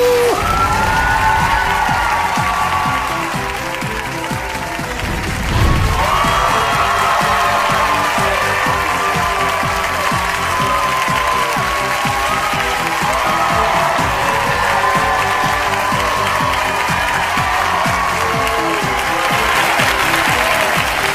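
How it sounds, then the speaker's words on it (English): A studio audience applauds and cheers continuously for a guest on a talk show, a dense, loud wash of clapping with whoops and shouts sustained throughout. "Look at who's cheering for you."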